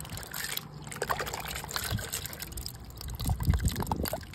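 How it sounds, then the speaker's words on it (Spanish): Clean water trickles and splashes over maize being rinsed for pozole in a home kitchen, a continuous close-up dribbling with intermittent sloshing bursts and no talking. "Y lo vamos a estar enjuagando con agua limpia."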